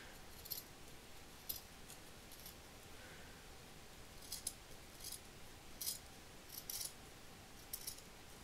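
Scissors cut paper for a handmade greeting card, making faint, crisp snips that repeat irregularly about once a second against quiet room noise.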